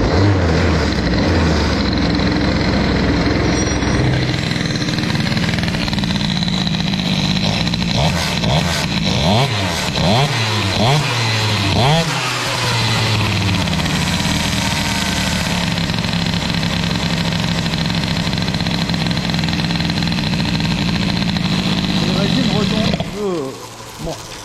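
An Airsal CPI 70 GTR 70cc moped engine, fully stock with a Carters Boost exhaust, idles loudly and steadily up close, with a few brief throttle blips midway before cutting off near the end, under occasional talk.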